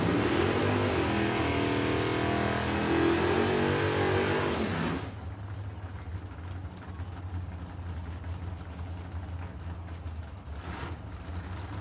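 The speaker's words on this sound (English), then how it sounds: "Yogi Snyder in the Chevrolet Camaro. Rolling up in the left lane." A Chevrolet Camaro drag car rolls up to the line, its engine a loud, rumbling burble for the first five seconds before cutting to a lower idle-like drone against the track's background noise.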